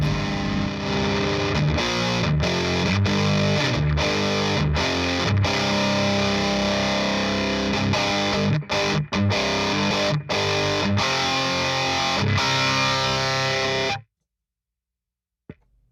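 Distorted electric guitar played through a Black Mass amp on its low gain voicing, dense chords and riffs ringing out loud and steady for about fourteen seconds before cutting to silence.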